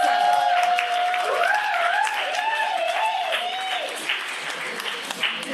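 An audience claps steadily at a birthday celebration, a dense patter of many hands that fades a little toward the end, with sung or voiced tones sliding over the clapping.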